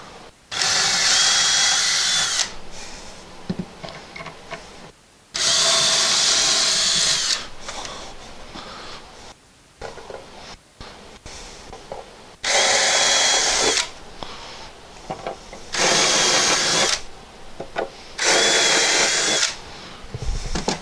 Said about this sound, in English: I'm going to drill where I marked it